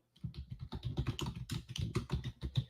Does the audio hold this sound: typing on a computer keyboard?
yes